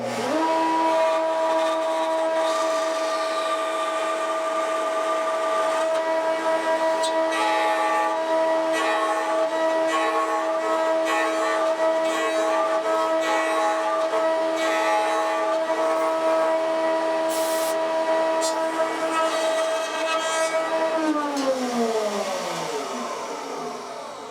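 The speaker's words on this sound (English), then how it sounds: "I'm going to put this slightly longer bit in my pin router, and I'm going to grind all this material away" A pin router fitted with a longer bit cuts away wood for a guitar neck pocket, giving a loud, steady high motor whine with rough bursts of cutting noise, then winding down near the end; no talk.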